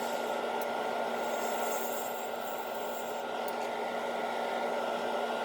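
A bowl gouge cuts wood on a lathe while a hollow form is turned, heard as a steady, loud, continuous whirring hiss with a constant hum underneath, close by with no talk throughout.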